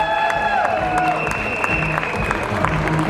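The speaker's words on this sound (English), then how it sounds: "Round of applause for this mass." An outdoor crowd at a Caribana carnival kick-off in downtown Toronto applauds in a steady, dense wash of claps, with a few voices and tonal sounds ringing over it.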